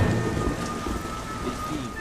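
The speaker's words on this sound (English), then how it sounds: "Well, it's raining" Rain and a low thunder rumble in the video game The Saboteur, a steady heavy downpour with deep rolling booms underneath, continuous and fairly close.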